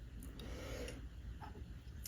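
A file rasps steadily across a '50s Gibson-style nylon guitar nut, making a faint, continuous scraping that is quiet and close, with no voices.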